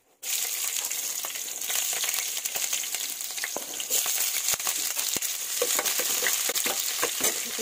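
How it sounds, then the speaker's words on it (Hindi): Masala spices sizzle and fry in a hot pan for a desi-style jackfruit (kathal) sabji, a steady close crackling hiss with small pops and stirring scrapes throughout, no voices. "ये फ्राई हो रही है"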